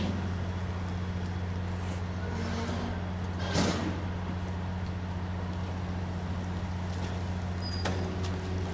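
VIA Rail train 87 doors slide shut at a station in a couple of brief scraping bursts over a steady, loud idling hum, with faint voices nearby.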